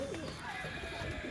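Short-bodied pigeons coo softly in a brief, low murmur over a faint noisy background.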